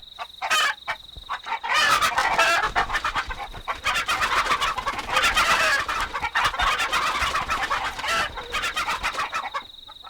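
Chickens cluck loudly and continuously, with overlapping calls and a rooster-like crow among them, close and dense throughout.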